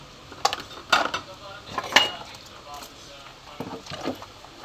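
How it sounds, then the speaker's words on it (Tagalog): Plates and dishes clink and clatter as they are washed by hand, several sharp knocks and scrapes in irregular bursts, close and fairly loud, with a voice speaking in between. "Maghugas muna ako ng mga plato mga kamiga."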